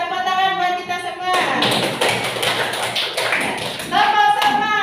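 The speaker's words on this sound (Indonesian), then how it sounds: "Kita tepuk tangan buat kita semua." A group of schoolchildren claps their hands together in a classroom, a dense burst of claps lasting a few seconds, with voices talking just before and after.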